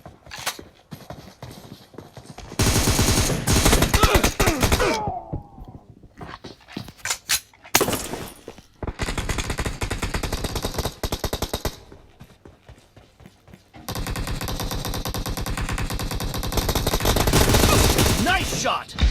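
Rapid gunfire in the mobile battle game PUBG Mobile, with long loud bursts of automatic shots separated by short quieter gaps, close and dense.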